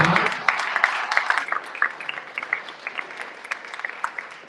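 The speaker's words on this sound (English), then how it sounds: "clap it up for these young people one more time" Audience applause for young people at a college eligibility round table, a burst of clapping that thins into scattered, uneven claps and fades over a few seconds.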